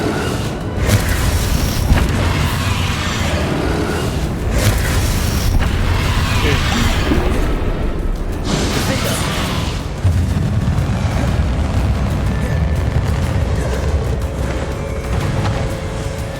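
Bombarda explosion spells cast in the Hogwarts Legacy video game erupt as a run of loud, booming blasts over dense, continuous battle noise that stays heavy throughout.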